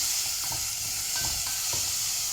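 Two spoonfuls of minced onion sautéing in a little oil, a close steady sizzle with a few soft stirring scrapes and knocks of the spoon.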